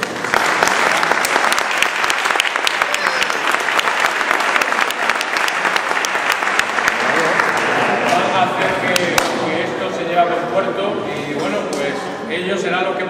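Audience applauding at a presentation, loud sustained clapping from a crowd that thins out toward the end as voices begin to talk.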